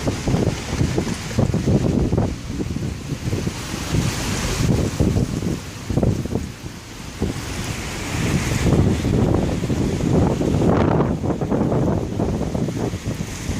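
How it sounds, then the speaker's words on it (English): Strong wind from an approaching cold front storm buffets the microphone in loud, continuous gusts with a roaring rush throughout, with no voices. "Look at that wind."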